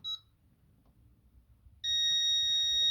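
Concord 4 home security system sounding its police alarm: after a brief beep and quiet, a loud, close, continuous high-pitched electronic tone starts abruptly and holds steady to the end.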